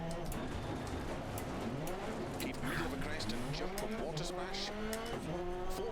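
Skoda rally car in Dirt Rally 2.0 on a Wales stage, engine revving up and down through gears with rising and falling pitch sweeps, some tire squeal, under intermittent talk.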